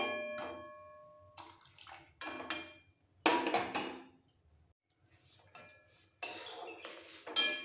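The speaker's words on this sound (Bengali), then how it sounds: "এবার দিয়ে দেবো গরম জল" Hot water is poured into a Bata fish curry with potatoes, heard as intermittent splashing pours in several short bursts with pauses between them, alongside clinks of a pot and utensils. The sounds are close but fairly quiet, with no talk.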